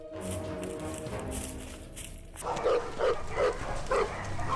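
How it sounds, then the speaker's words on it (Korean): Hunting dogs out after wild boar in the brushy hills of Yeongyang County bark excitedly in a steady run of repeated yelps, moderately close over rustling outdoor noise. "사냥개가 흥분해 짖기 시작합니다."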